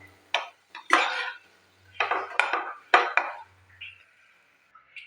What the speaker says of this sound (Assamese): আলুৰ লগত এইখিনি ভালদৰে মই মিক্স কৰি ল'ম।